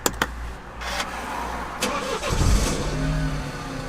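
A BMW 1 Series is started with a stop/start button: a few sharp clicks, then a brief crank as the engine catches and settles into a steady, low idle rumble nearby.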